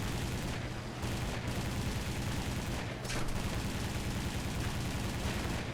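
Continuous heavy machine-gun fire from Breda-SAFAT guns on an Italian fighter in War Thunder, a dense rapid stream of shots close and loud, with brief pauses around one and three seconds before firing resumes.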